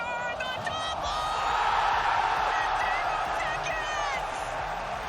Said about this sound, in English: The crowd erupting